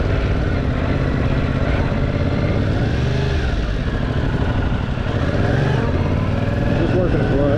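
Yamaha R7 motorcycle engine idling and lightly revving while a first-time rider works the clutch, a steady loud rumble with wind noise throughout and faint voice-like tones mixed in.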